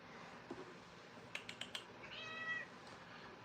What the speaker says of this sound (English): The cat is knocking everything over trying to get to me to get scratches.